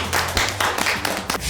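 A small group of office staff clapping to open a weekly company meeting, a brief burst of close, uneven hand claps.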